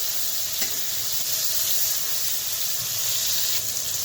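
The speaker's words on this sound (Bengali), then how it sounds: "তো টমেটোর এই পিঠটা ভাজা হয়ে গেছে, এখন উল্টিয়ে দিই।" Tomato slices seasoned with salt, turmeric and Kashmiri chilli powder fry in oil for egg bhorta, giving a steady, loud, continuous sizzle with a faint tap of the utensil and no talking.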